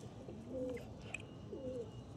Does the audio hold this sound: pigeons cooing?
yes